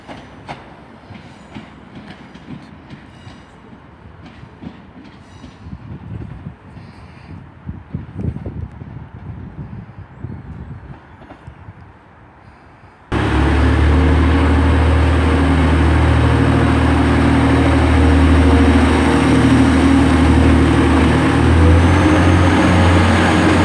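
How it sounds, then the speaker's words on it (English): Train 150143, a diesel unit, departs Huddersfield station: quieter clattering and rumbling give way abruptly to a loud, steady engine roar and wheel noise close by. "And also departing out 150143, which is heading on the 1331 service to Wakefield Westgate"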